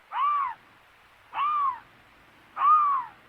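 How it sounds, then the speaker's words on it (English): A bobcat calls three times, each a drawn-out, wavering yowl about half a second long, separated by roughly a second of silence, loud and close with no voices present. "This is what a bobcat sounds like."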